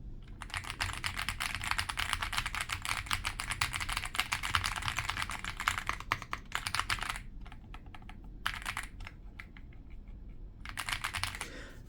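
Fast, continuous typing on an aluminum CNC wireless mechanical gaming keyboard gives dense, loud, clacky keystrokes close by, with a few brief pauses in the run.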